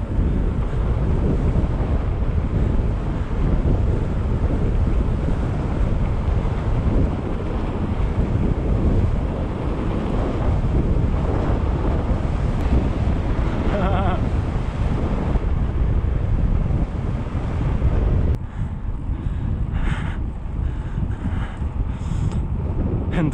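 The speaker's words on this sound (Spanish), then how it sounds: "Demasiado fuerte está el aire." Strong wind buffets the microphone during a mountain bike ride near Durango, Mexico, a loud steady roar with gusty rumble throughout and a brief shift in texture near the end; no clear talk.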